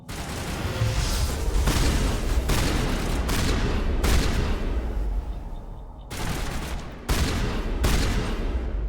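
Shotgun blasts in the video game Mass Effect, a rapid string of loud, booming shots with brief gaps, several overlapping into a continuous barrage before a pause and a few final heavy bursts, with no talk over them.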